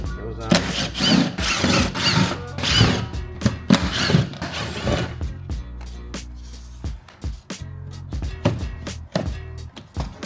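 A power tool zips out 10mm bolts on an ND Miata side mirror in several loud, close whirring bursts, followed by quieter clicks, clunks and handling of loose parts.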